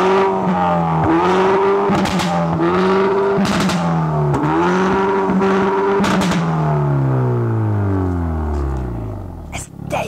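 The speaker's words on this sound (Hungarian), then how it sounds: "nincs hangszoróból vezérelt tuning, hanem tisztán egyedül kipufogó és motorhang" A Hyundai i30N Performance with its 275 hp engine and exhaust revs hard in repeated loud rising and falling pulls, crackling between blips, then winds down near the end, close and alone.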